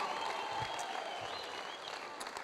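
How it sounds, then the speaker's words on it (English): A country crowd roars and applauds steadily at an indoor junior sports grand final, a dense, sustained wash of cheering with no break. "Big noise from the country crowd."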